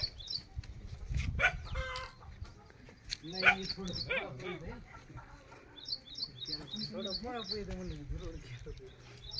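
Chickens cluck and chirp in short, scattered bursts, fairly quiet, with people talking intermittently nearby.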